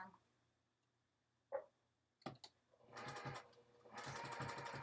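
A sewing machine stitches close to the edge of fabric, starting with a few faint clicks and then running in two close, steady bursts, with quiet talk in the background.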